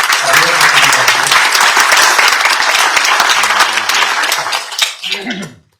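An audience at an association gathering applauds Marie-Claude Alcaraz and Stéphanie Adam, with loud, dense sustained clapping and some voices in the background, tapering off abruptly at the end.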